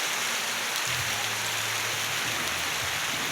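Heavy rain pours steadily in a forest, a dense, even hiss of drops on leaves and ground, with a faint low hum underneath and no speech.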